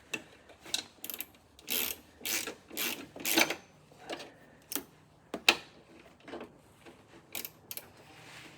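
A ratchet tightens a bolt on the lower control arm of a Suzuki Carry, clicking in quick close bursts of pawl ticks separated by short pauses, with no talk.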